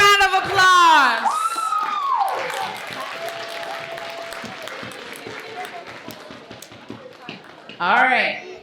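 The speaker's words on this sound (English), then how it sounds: "a big round of applause" Applause from the audience at the Frederick Douglass Oratorical Contest and Andrew Turner Art Competition, a steady wash of clapping and crowd noise, with a voice speaking at the start and again near the end.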